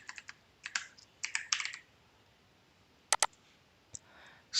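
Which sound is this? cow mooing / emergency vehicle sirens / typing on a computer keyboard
typing on a computer keyboard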